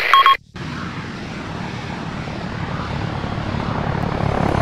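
A loud aircraft engine drones steadily overhead, a dense broadband roar that swells slightly over several seconds after a short electronic beep at the start.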